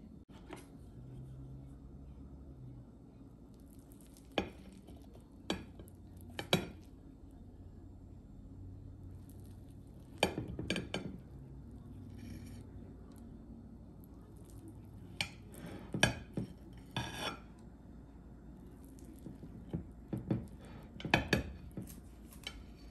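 A metal utensil cuts instant semolina idli in a tray, giving sparse sharp clinks and scrapes against the tray over a quiet kitchen background.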